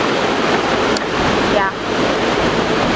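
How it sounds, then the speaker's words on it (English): Loud, steady rush of a river flowing under a bridge, a dense broadband roar that fills the whole stretch close to the microphone, with only a slight dip partway through. "you can hear the noise of"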